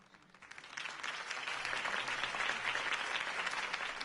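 Video game crowd applause swells after a quiet start and holds steady, dense clapping from many hands that sounds like a large audience.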